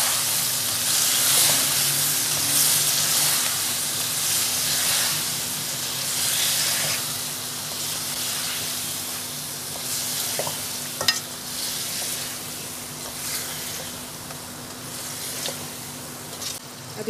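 Mutton masala with green chillies sizzles steadily in a pan while being stirred, a continuous close hiss of frying with occasional scraping clicks of the spoon and no talking.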